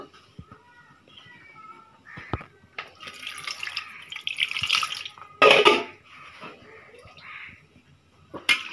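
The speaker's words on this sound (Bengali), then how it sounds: "এটা ধুয়ে একটু পানি দিব।" Tap water pours into a pressure cooker of beef as it is rinsed and filled in a home kitchen. The splashing rushes in a few close, uneven bursts over quiet background clatter.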